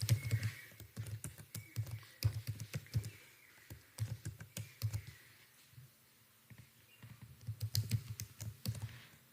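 HTML code being typed on a computer keyboard, a close run of quick key clicks in bursts with short pauses between them.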